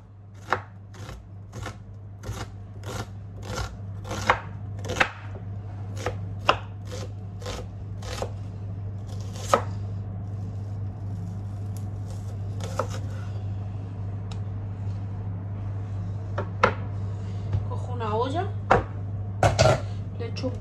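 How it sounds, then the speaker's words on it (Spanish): A knife chops an onion on a cutting board, a steady run of sharp, close taps, some loud and some light, over a constant low hum, with a few pan and utensil clinks near the end. "Voy a empezar cortando la cebolla."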